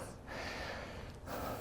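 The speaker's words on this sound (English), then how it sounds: "See, I'm breathing heavy." A person breathes heavily after a short-rest weightlifting set, with a long rasping breath and a sharp gasp close to the mic.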